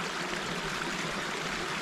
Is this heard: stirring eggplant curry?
no